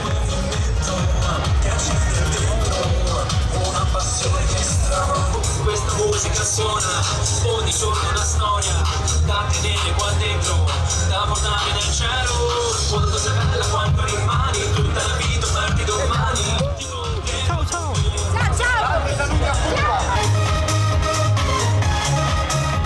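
Carnival crowd cheering and singing in the streets of Viareggio during the parade, a dense continuous roar of voices with music-like tonal layers and thumping low end, steady and loud throughout.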